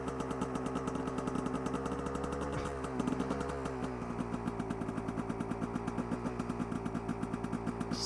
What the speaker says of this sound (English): Just kind of let the bike warm up.